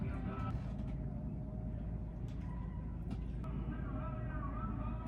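A loud boat on the Sea of Cortez passing close by, giving a steady low engine rumble that holds throughout the clip, with voices talking intermittently over it.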